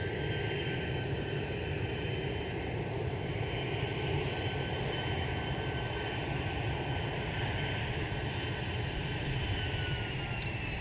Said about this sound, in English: we do have an arrival on short final coming in from Cancun. It's Delta 1878 739ER.